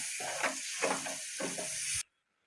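A whisk stirs milk into a hot roux in a pan for béchamel sauce, giving a steady sizzling hiss with three rhythmic scraping strokes, close and fairly loud, stopping abruptly at the end.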